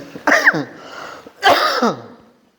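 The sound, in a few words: cough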